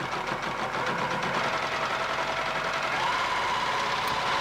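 A sewing machine runs continuously, stitching back over the start of a finished circle of small pleats on a cuff, giving a steady, even mechanical whir with no pauses.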